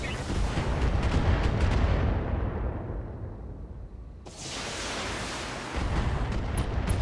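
LRM-5 missile volleys launch and burst in BattleTech, a loud rumbling barrage of blasts that swells, fades into a darker lull, then erupts again abruptly near the end.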